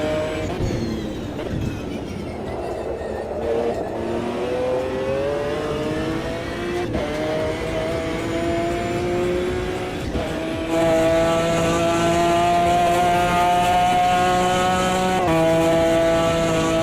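A race car in the Automobilista 2 sim racing game heard from an external view: a loud engine repeatedly revving up through the gears, pitch climbing then dropping at each shift.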